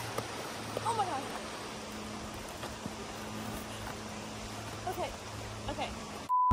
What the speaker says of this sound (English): Not as many rapids over here, so it's not quite as loud, but it's still peaceful